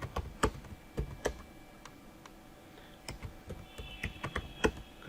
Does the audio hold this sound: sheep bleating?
no